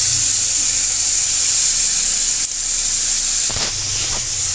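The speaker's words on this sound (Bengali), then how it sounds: "এই যে এটা হলুদ লঙ্কা জিরে তারপরে কাশ্মীরি মির্চ সব কিছু একটা পেস্ট বানিয়ে রেখেছিলাম। তো এটা ঢেলে দেবো এখন।" Spice paste of turmeric, chilli, cumin and Kashmiri chilli poured into hot oil for Bengali mutton kosha, giving a loud, steady close sizzle and hiss that runs throughout, with a brief clatter near the end.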